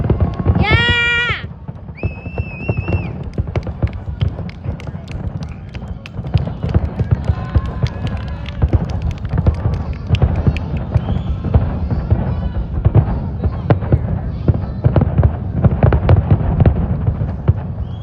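Fireworks go off at the Traverse City Cherry Festival display, a sustained barrage of crackling bursts and thumps with a couple of whistling shells early on and some crowd cheering.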